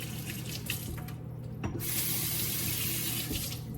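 A tablespoon is rinsed under a running kitchen tap while cooking chipotle chicken, a steady close stream of water splashing into the sink with no talking.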